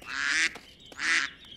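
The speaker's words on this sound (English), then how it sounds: "Hey, stop that, you ducks." Cartoon ducks give two loud, nasal quacks in quick succession, close up and clear with a short pause between them.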